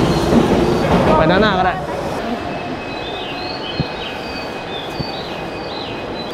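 A train at a station in Kawagoe, Japan makes a steady, broad rumble with a few faint clicks and distant bird chirps. A person speaks briefly over it at the start.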